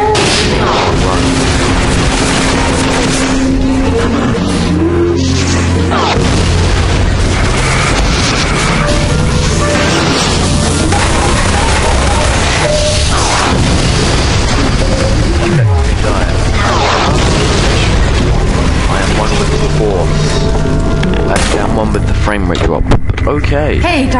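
Artillery shells explode in a continuous barrage in Half-Life 2, with heavy booms and crashes layered over dense, loud game audio. A voice shouts briefly among the blasts.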